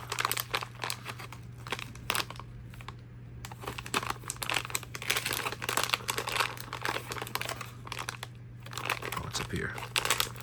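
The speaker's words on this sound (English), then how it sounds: "Where's the tear notch at on this one?" Crinkly plastic packaging of an MCW meal ration is handled and torn open, with close rustling and crackling bursts throughout while a person speaks briefly.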